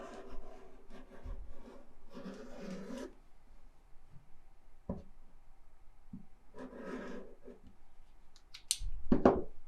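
Scissors cut through folded fabric along a template in a quiet room, with a few bursts of soft rasping snips, separated by pauses and light handling knocks, faint and close.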